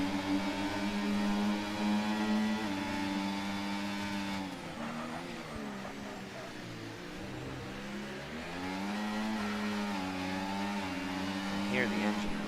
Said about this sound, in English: hear the engine revving as Justin really wants to get the power down